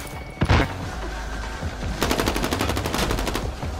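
Bursts of automatic gunfire in the Warzone battle royale game: a sharp shot near the start, then a sustained rapid volley of rattling fire for the last two seconds, loud and close, with no talk.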